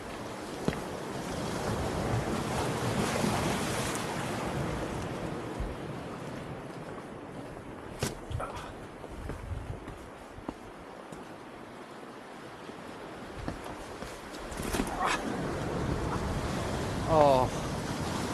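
Big ocean waves washing and splashing on Wild Pear Beach near Combe Martin in North Devon, a continuous surging roar with swells rising and falling, wind buffeting the microphone and a few brief sharp knocks.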